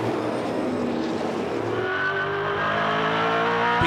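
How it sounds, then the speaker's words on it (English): V8 Supercars race along the circuit at Shanghai International in 2005, their engines roaring loudly and continuously with rising, revving pitch as the cars accelerate. "Will he try an Ambrose style move up into the hairpin at the end of the long back straight?"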